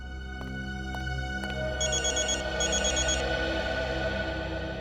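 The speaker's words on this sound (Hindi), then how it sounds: "अभिजीत का फोन है।" A telephone rings inside an old haunted theatre, in two electronic trilling bursts, fairly faint over a low background hum and sparse clicks, with no one speaking.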